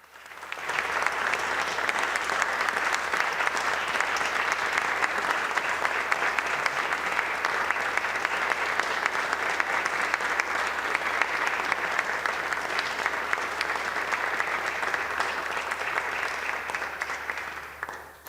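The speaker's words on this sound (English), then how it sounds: "Let's give them a round of applause." Members in the House chamber give staff a long, even round of applause, a dense crowd of clapping that holds steady for about eighteen seconds before tapering off, with no talking.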